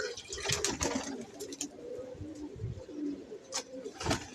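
Ring-eyed pigeons from a loft of prize-winning birds coo in a steady, low murmur, with soft rustles and clatter from the coop mixed in.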